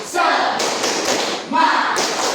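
A classroom group performing the rhythmic tepuk semangat spirit clap, a busy run of overlapping claps and thuds with a brief pause midway, close and fairly loud, with voices mixed in.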